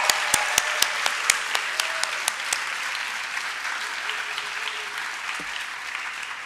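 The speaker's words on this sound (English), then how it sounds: "let's give one last round of applause to our students before we start the show." Parents at a grade 5 school promotion ceremony applaud the students: a steady wall of crowd clapping, with several sharp, close individual claps standing out near the start.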